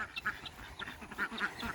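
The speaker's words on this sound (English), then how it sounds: "there's our ducks" Domestic ducks quack in quick, irregular bursts at a moderate distance in a barnyard, several calls overlapping over a soft outdoor background.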